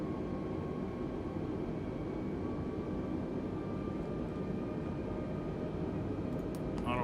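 Airbus A320neo airliner climbing out after takeoff from Toulouse, a steady broadband engine roar heard from inside the cabin with faint tonal whines, continuous and even throughout.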